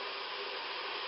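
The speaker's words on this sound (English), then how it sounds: "You can hear the sizzle of the water bath right now." A canning water bath gives off a steady, even hiss, loud and close, with no breaks or voices across the short stretch.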